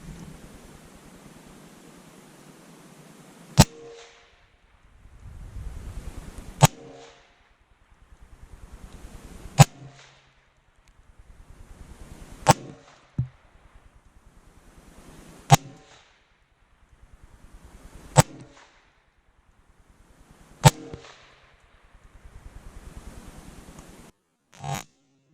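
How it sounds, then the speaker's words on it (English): Several sharp, isolated gunshots from CCI Mini-Mag .22 rounds fired at bananas, about eight cracks spaced a few seconds apart at moderate distance, with quieter rustling noise between shots. "we'll blast them with our CCI mini mags"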